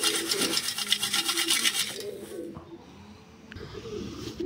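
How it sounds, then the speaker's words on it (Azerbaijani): Pigeons coo in a loft housing chicks, soft repeated rolling coos close by, with rustling and scraping noises around them. "İndi bu dəqiqədə quşxanada 2-5 dənə bala var."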